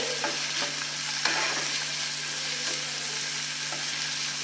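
Chopped tomato is stirred into sautéed vegetables in a pan for a quick paneer pulao, with a steady sizzle throughout and soft scraping strokes of a spoon near the mic, no speech.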